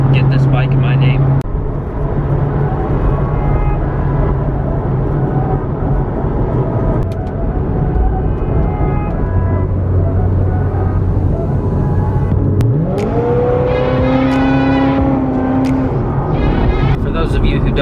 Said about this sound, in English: go ahead and take the first ride on the FZ-09